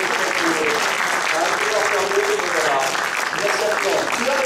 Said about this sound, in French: On l'applaudit très très fort